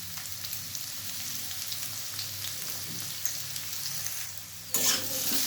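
Papaya and chana dal frying with salt and turmeric in a pan, stirred: an even, continuous sizzle with soft stirring scrapes underneath, a louder burst of frying near the end, close and alone.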